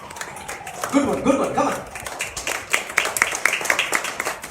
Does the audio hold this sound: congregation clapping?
yes